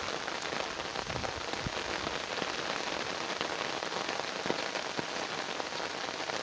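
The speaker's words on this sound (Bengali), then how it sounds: "চারদিকে পুরা অন্ধকার, পুরা বৃষ্টি পড়তেছে।" Heavy rain pours down in darkness, a dense, unbroken wash of drops striking surfaces close by, loud and even for the whole stretch with occasional sharper splashes.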